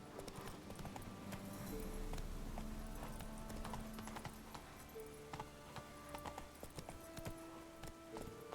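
Hooves of the horse Roach in The Witcher 3 pound in a steady galloping clip-clop, close and rhythmic under a soft game music backdrop.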